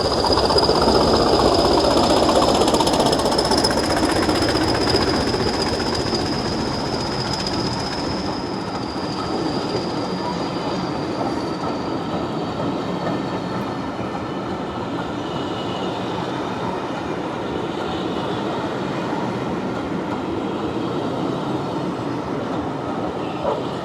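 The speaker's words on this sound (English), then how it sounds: "it's actually not a steam train today, it's a diesel train" A diesel train rolls past, loud at first then easing off, with a steady rumble, clattering wheels and a thin metallic squeal.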